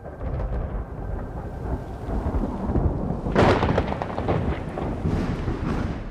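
Thunder from a night thunderstorm in the mountains, a deep continuous rumble under steady rain that swells into a louder, sharper crack partway through, then rolls on.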